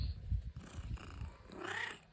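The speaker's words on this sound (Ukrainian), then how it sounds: "Коротше, тут наша кішка." A house cat purrs close by in a quiet room, a low soft rumbling pulse that fades, followed by a brief higher vocal murmur near the end.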